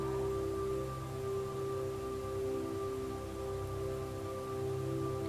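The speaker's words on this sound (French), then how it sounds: "Portant ton attention sur le son de la pluie qui tombe." Steady rain falls continuously onto surfaces, a dense even patter with a constant hum underneath, moderately loud throughout and with no voices.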